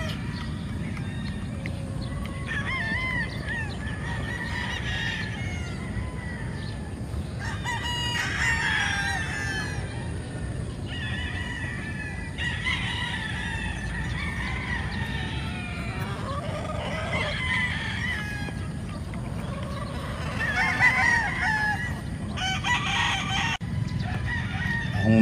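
Gamefowl roosters on a farm crow repeatedly, several birds overlapping near and far, over a constant low rumble of background noise and steady clucking.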